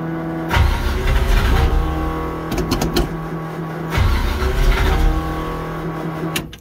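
A car engine with an Edelbrock/Carter AFB carburetor and electric choke cranks, fires and catches, then runs loudly up close with several blips of revving.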